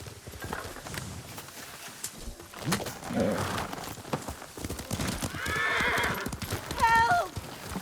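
In the Ghost of Tsushima video game, a horse's hooves clop at a gallop, then a loud whinny rings out, with bird coos in the background.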